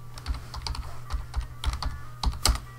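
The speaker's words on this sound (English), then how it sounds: "you will see the section on the left hand side here where you can type in your own headline" Headline being typed on a computer keyboard, a quick irregular run of light plastic key clicks with small pauses, close and fairly quiet, no talk.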